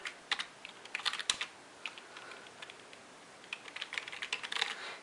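Fingers typing on a computer keyboard. Quiet, close key clicks tap out in uneven bursts with short gaps, with no speech.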